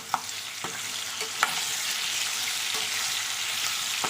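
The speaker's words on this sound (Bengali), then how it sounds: "খুব ভালো করে আমি আলুটাকে ভাজবো" Potatoes with salt and turmeric fry in a pan with a steady sizzle, while a spatula stirs and scrapes in a few sharp, separate knocks.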